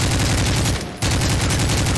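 Rapid gunfire rattles from weapons in a Siren Head video game, dense repeated shots nearly filling two seconds with a short gap near the middle.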